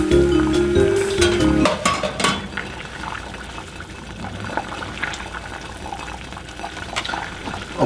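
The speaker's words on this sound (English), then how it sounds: "we've boiled down our vermouth and our beef bouillon" Vermouth and beef bouillon boil down in a pan for chicken breasts in cream sauce: a dense, steady bubbling hiss, loud and close, with a few clinks of a utensil early on.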